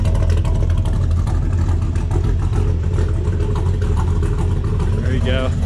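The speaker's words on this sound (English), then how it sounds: "it's actually idling a lot better than I expected it to for this cam" A modified LQ4 6.0 V8 fitted with a Texas Speed Heads cam, not yet fully tuned, idles loud and close with a deep, choppy, steady rumble filling the whole stretch.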